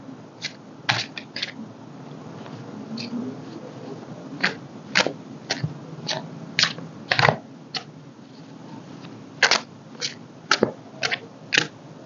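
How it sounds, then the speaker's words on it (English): Tarot cards being shuffled by hand, a run of crisp riffling snaps and soft slides in an irregular rhythm, close and fairly quiet with no talking. "as I was shuffling"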